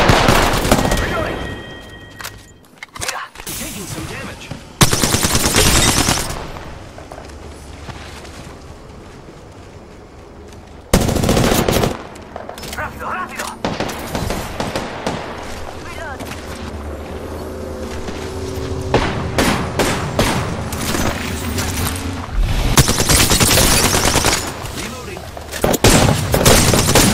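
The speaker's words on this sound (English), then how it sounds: "They're shooting. Reloading. Yeah, taking some damage." Bursts of automatic weapon fire and reloading in the battle royale game Apex Legends, loud rapid volleys separated by quieter gaps with wind-like ambience.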